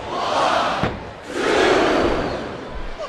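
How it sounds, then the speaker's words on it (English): A crowd roars in two loud swells in the wrestling video game Smackdown vs RAW 2007, a brief dip between them, cheering and shouting together. "I think these superstars are getting some feedback from the crowd, JR."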